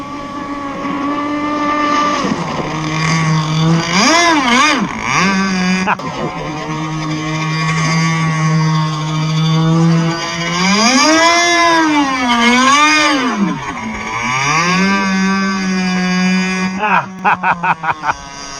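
A radio-controlled boat with a Zenoah 30cc gas engine skims across open water, its loud, close buzzing engine rising and falling in pitch as it speeds and turns, then sputtering into a few choppy bursts near the end.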